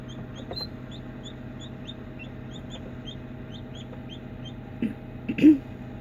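Newly hatched chicks peep in a see-through incubator, a steady run of small, high, evenly spaced chirps that stays faint against a constant fan hum, with a couple of louder thumps near the end.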